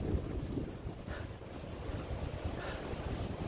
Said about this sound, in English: And the wind's picking up